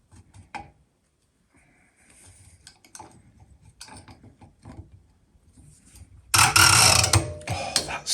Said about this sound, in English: someone gave me this quite flash spanner, and that's got square edges.